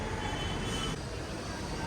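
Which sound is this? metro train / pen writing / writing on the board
metro train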